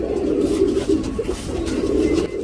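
A tournament racing pigeon coos in soft, low, repeated rolling calls, close by and fairly steady, with no talk over it.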